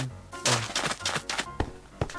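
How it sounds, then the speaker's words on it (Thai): Loud, dense thudding steps land on hard blocks in quick irregular succession, each a sharp crunchy impact in Minecraft, with game audio boosted 300%. "เสียงเดินบน บล็อกนี่มันอะไรกัน เสียงโคตรแน่นเลย"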